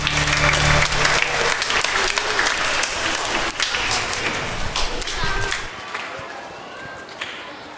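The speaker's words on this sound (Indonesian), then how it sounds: "Tepuk tangan buat kita semua." A church congregation at a Christmas family Mass applauds together, loud dense clapping that gradually thins and fades over several seconds, with some voices mixed in.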